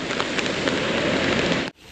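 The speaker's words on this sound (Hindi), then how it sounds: "इधर आगे बारिश पूरी तेज है भाई" Heavy monsoon rain pours in a dense, loud, unbroken hiss and patter close by, then cuts off abruptly near the end.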